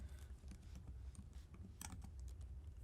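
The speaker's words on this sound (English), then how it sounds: "Getting my typing practice in." Quiet, rapid typing on a computer keyboard, soft close key clicks in quick bursts with no voices.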